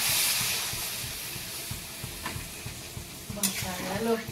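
Water hits sautéed potatoes in a curry pan, setting off a loud, bright sizzling hiss that fades into steady bubbling. Rhythmic stirring scrapes run underneath, and a sharp burst of sizzle comes near the end.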